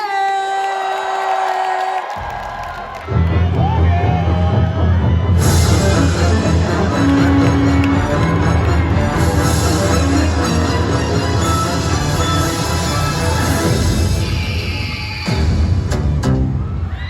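Loud crowd cheering and whooping for drag queen Joey Jay at DragCon 2022 bursts in after a quieter opening and stays dense and sustained, with shouts and yells mixed into the roar.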